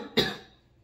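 One sharp, close cough comes after a hit from a vape battery, a single burst that quickly fades into quiet.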